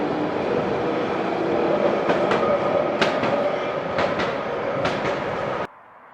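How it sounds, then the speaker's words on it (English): A tram passes along a street in Bendigo, a steady rolling rumble with several sharp clacks from wheels over rail joints, loud and close, cutting off abruptly near the end. "Another one of those pesky trams."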